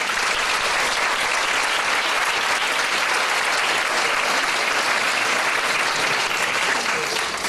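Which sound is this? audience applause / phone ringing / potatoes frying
audience applause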